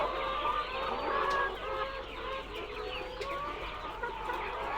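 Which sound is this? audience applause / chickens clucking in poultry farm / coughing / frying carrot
chickens clucking in poultry farm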